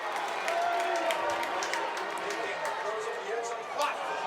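Loud, steady roar of a packed high-school football stadium crowd at a Massillon Tigers game against the Gateway Gators, a dense wall of cheering and shouting held throughout at close range.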